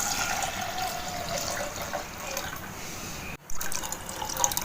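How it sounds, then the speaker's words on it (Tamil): Water from a metal jug pours steadily into a pressure cooker holding moong dal for a ridge gourd kootu, giving a continuous splashing rush. The flow stops briefly, then resumes. "இப்போ ஒரு சொம்பு தண்ணி ஊற்றிக்கலாம்."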